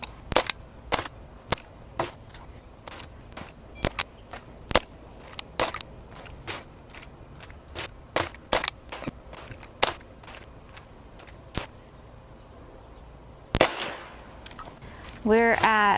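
Sharp, snappy pops from a Dan Wesson 715 CO2 pellet revolver with a 2.5-inch silver barrel, fired one shot at a time at an irregular pace across the stretch, each crack close and distinct against quiet background hiss.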